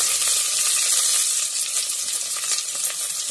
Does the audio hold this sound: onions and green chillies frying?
yes